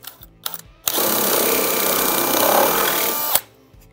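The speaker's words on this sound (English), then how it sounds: "we're going to be drilling straight through" A power drill bores straight through the metal of a Can-Am Commander for a rack install. It runs as one steady, loud whine for about two and a half seconds, preceded by brief short bursts.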